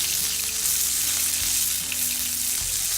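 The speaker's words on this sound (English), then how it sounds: "I'm just going to brown the fat cap right now." The fat cap of a beef côte de boeuf sears in a hot pan with a loud, steady, crackling sizzle that continues for the whole stretch, alone without talk.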